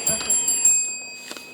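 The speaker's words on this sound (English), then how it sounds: "that bell means it's the end of section 1" A quiz show bell rings out several quick, bright, ringing strikes close up, marking the end of a section in a school quiz contest, then decays into a short fading tail.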